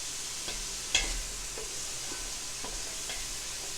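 Onions caramelizing in a pot for a beef and vegetable soup give a steady close sizzle, with a few soft stirring knocks and one sharper clink early on.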